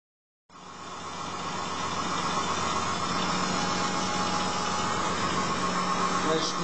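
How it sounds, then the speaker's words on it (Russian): A rebuilt Mitsubishi Pajero V6 engine starts and settles into a steady idle, a close, even hum with a faint vibration. "Как видите, мотор работает."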